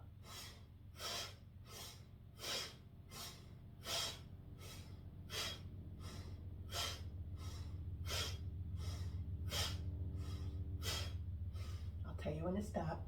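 Rhythmic sharp breaths, inhale and exhale alternating about every second, during beginner yoga breath work over a low sustained background hum, ending with a brief vocal sound.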